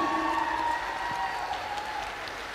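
Audience applause after a choreographed dance number at a Prague end-of-year dance show, a steady, moderately quiet wash of clapping with faint tonal music lingering underneath throughout.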